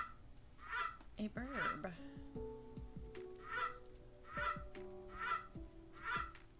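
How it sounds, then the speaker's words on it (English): A novelty wall clock chimes the hour with a recorded Canada goose call, a series of about five loud, evenly spaced honks following a short musical tone, with a person speaking briefly at the start. "That was the terrible 5 o'clock Canada Goose on my wall clock"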